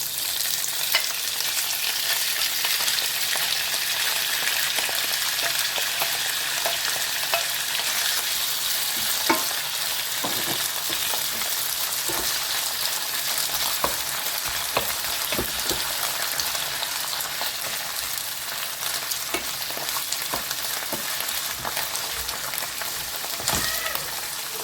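Washed mushrooms frying in a pan for a cream sauce give a loud, dense, continuous sizzle like rain on a surface, with occasional stirring clicks and scrapes, close and unbroken by talking.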